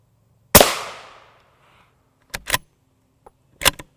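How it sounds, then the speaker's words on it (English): A 5.56 M193 rifle round strikes a ShotStop Duritium GT2 armor plate, giving one loud, sharp crack with a decaying ring, followed by several fainter clicks and taps. "The first shot will be the upper middle of the plate, so M193."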